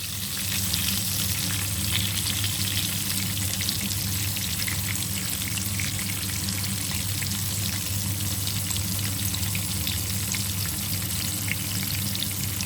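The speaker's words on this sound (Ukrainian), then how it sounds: "А я смажити оцю смакоту, яка називається карасики" Crucian carp frying in a pan at home, a steady close sizzle and spatter of hot oil running continuously with no talk.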